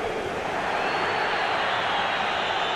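A stadium crowd roars in an ovation during a simulated Copa del Rey round-of-16 match between Athletic Club Bilbao and FC Barcelona, a dense, steady wash of cheering that holds at an even level throughout.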